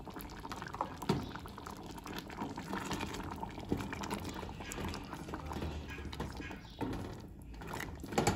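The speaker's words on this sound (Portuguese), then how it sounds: "E deixo aqui dar uma fervida." Liquid bubbles and simmers in a pot up close, a continuous crackling burble with occasional pops, no talking.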